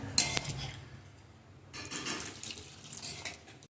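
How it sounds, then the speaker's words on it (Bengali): Water is poured into a pot of braised, spiced meat curry, a steady splashing pour with light clinks of the pot, a brief pause, then more pouring and bubbling, heard close and moderately loud. "জল দিয়ে দিলাম"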